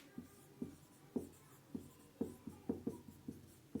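A teacher writing notes during a physics lesson: soft, close pen or chalk strokes tapping and scratching in an uneven rhythm of short marks, quiet and alone.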